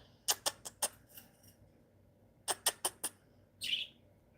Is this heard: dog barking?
no